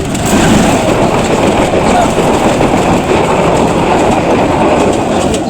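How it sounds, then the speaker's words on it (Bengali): A train rolls past a staffed railway level crossing gate in Kurigram, Bangladesh, with a loud, continuous, close rumble and clatter of wheels on track that holds steady from start to finish. "এই যে এখন ট্রেন আসছে"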